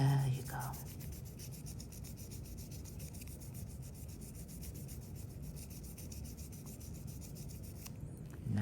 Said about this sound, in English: You keep rubbing it. Keep rubbing. If it's difficult, you just increase the pressure.